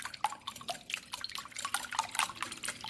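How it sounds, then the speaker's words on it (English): Eggs for a hot milk vanilla sponge cake are whisked in a bowl, giving quick, light, irregular clinks and wet splashes up close. "Now let's whisk the eggs."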